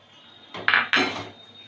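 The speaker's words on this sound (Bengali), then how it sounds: "এক মিনিট পরে ঢাকনা তুলে নিচ্ছি এখানে হাফ চামচ কর্নফ্লাওয়ার গুলে গুলে রেখেছি সেটা দিয়ে দিলাম" Metal pot lid being lifted, then a spoon clinking and scraping in a pot as a cornflour mixture for a home-style chicken sandwich is stirred in, two brief close clattering bursts over quiet background.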